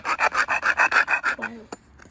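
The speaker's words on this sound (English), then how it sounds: "He's just going to try a file now to see which one is better, drill or file." A metal hand file rasps against a hood release cable part, about nine quick, even back-and-forth strokes close up, then a pause and one last scrape.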